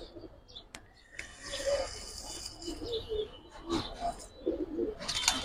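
Giribaz pigeons coo in soft, repeated low calls nearby, mixed with faint chirps and background rustle.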